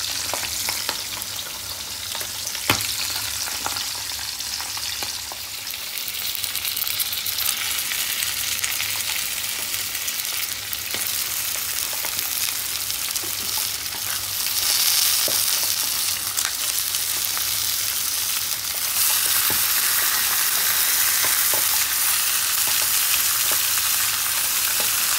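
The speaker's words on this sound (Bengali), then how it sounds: "কষাতে হবে, আর এদিকে মাছও ভাজা হচ্ছে" Fish frying alongside mutton being stirred and browned in a pan, a steady dense sizzle with occasional stirring scrapes, close and continuous without talk.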